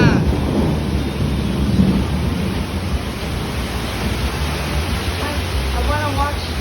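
Heavy tropical storm in Florida, with dense, roaring rain and deep rolling thunder that stays loud and continuous throughout.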